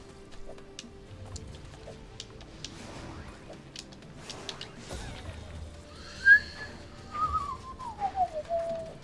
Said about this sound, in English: Whistling to try to relieve some of my tension right now.